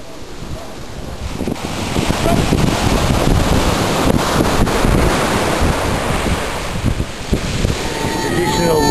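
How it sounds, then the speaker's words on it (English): Ocean surf washes onto the coast near a village in Papua New Guinea, a loud, steady roar of breaking waves mixed with heavy wind buffeting the microphone, and voices can be heard faintly under it. "Well, we've reached the ocean."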